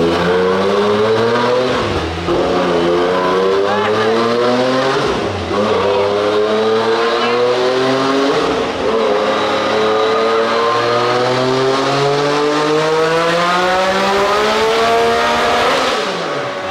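A Yamaha YXZ side-by-side revs hard on a Mustang dyno through a loud muffler, climbing repeatedly through its gears in long rising sweeps with short dips at each shift, loud and continuous.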